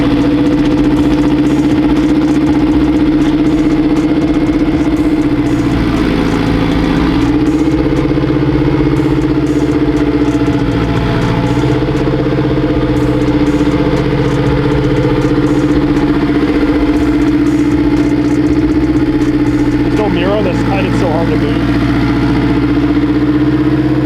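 A turbocharged K20-swapped Honda CRX with anti-lag runs continuously, a loud, rough, droning idle close by with small surges and a brief rev swell partway through.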